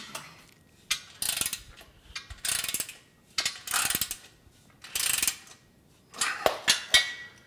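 Ratchet wrench clicking while a Body Solid EXM3000 home gym is assembled, in about eight short bursts of rapid ratcheting clicks separated by brief pauses, close and fairly quiet.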